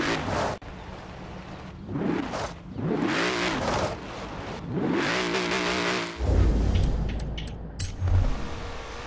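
A muscle car engine revs in the Forza Horizon 4 racing game, with repeated throttle blips that rise and fall in pitch, loud and close, ending in a heavy low rumble.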